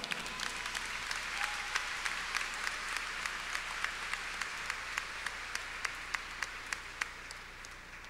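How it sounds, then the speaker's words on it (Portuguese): Church congregation breaking into applause during a Catholic service, a dense, continuous wash of many hands clapping in a reverberant hall, fairly faint and steady throughout. "Uma salva de palmas ao Senhor."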